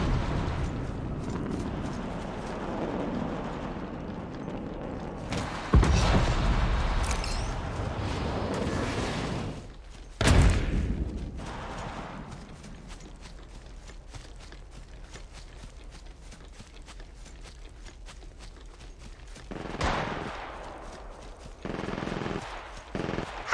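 Bursts of automatic gunfire in a battle royale video game, a few heavy loud volleys standing out against a steady background rumble of distant shooting and movement.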